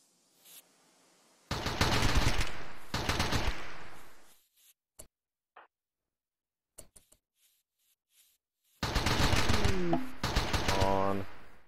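Turrets firing at raiders in RimWorld, two long rapid bursts of automatic fire separated by near silence with a few isolated clicks, loud and close, a voice briefly speaking at the end.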